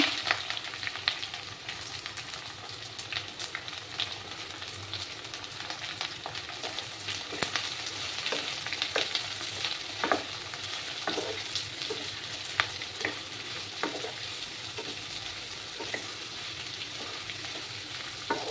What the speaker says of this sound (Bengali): এবার আমাকে এই পেঁয়াজগুলো একটু লাল লাল করে ভেজে নিতে হবে